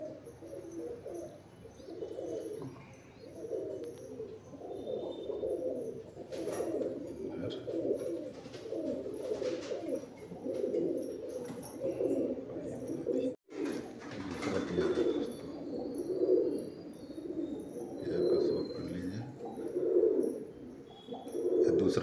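Madrasi pigeons cooing repeatedly in soft, rhythmic low burrows, fairly close and steady, with faint background rustle and no talk.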